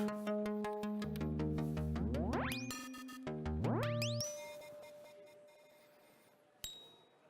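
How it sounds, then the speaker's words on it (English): Modular synthesizer tones, pitch modulated by a low-frequency oscillator, repeatedly sweep upward in two rising glides over sustained notes, then fade into a faint hum with a single sharp click. "I can control the pitch of that, and I'm going to do that with what's called a low frequency oscillator"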